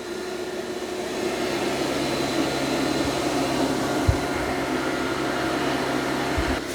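A robot mop runs with a steady motorized hum and whine, continuous and close, with a couple of brief low thumps toward the end.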